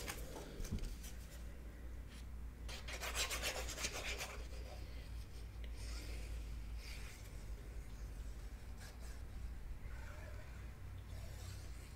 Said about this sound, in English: I really like these little flexible metal rulers